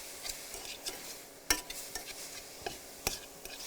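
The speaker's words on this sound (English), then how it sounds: "You can tell by the way it sounds that it's almost done." Lamb browning in a pan gives a faint, quiet sizzle under repeated scraping and clicking from stirring, with a few sharper utensil knocks.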